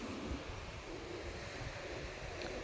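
Sea waves washing onto a shore, a steady broad rush of surf mixed with wind buffeting the microphone, continuous and fairly faint with no talk.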